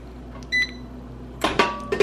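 An air fryer cooking lechon kawali finishes with a short beep and then several sharp mechanical clicks and clunks as it pops up, close by with a low background hum.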